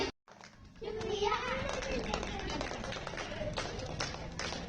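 Sixth-standard schoolchildren clap in thanks at a Republic Day celebration at a Bijapur English-medium primary school, a faint, steady spread of tapping hands mixed with children's voices.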